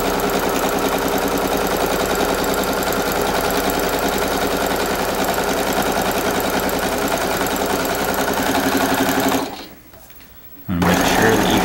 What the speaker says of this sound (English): We're going to sew a straight line across, about half an inch, 1/4 inch from the edge here